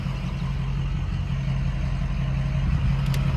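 A Ford 6.0 Powerstroke diesel truck engine idling after a highway drive, a steady low rumble with an even hum holding throughout, fairly loud and close, with no voices.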